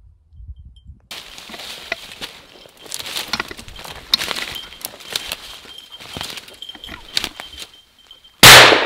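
Footsteps crunch through autumn woods during an early October grouse and woodcock hunt in Minnesota, then a single loud, sharp shotgun blast bursts out at the very end.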